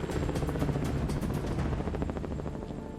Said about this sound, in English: In its critical test, the helicopter takes off, loaded with 14 Army personnel.